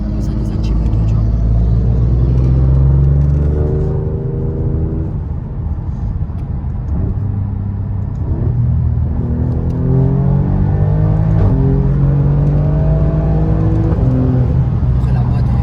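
An Alfa Romeo Giulia Quadrifoglio, with its V6 built by taking two cylinders off a Ferrari 458 engine, drives in race mode. The engine is loud and close, a continuous throaty rumble with repeated revs that climb in pitch, and faint talk sits underneath.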